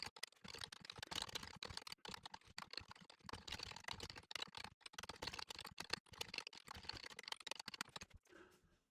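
Fingers type code on a computer keyboard in a fast, quiet, continuous clatter of key presses with brief pauses, close by, before it stops just at the end.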